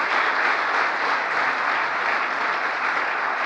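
A sustained burst of audience applause at a live political speech marking the Inflation Reduction Act anniversary, dense and steady clapping throughout with no voices over it.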